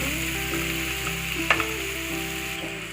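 Crushed onion and green chili sautéing in a pan, a steady close sizzle with light stirring scrapes and a sharp clatter about halfway through.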